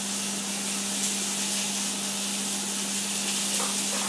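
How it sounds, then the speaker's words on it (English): Steady sizzling on a hot griddle, a continuous bright crackling hiss with no pauses, close by. "What you want to hear is that little sizzle."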